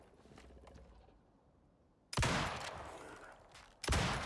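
Two loud gunshots ring out in the survival video game Icarus, well spaced and each followed by a long decaying rumble, after a quiet lead-in with no talking.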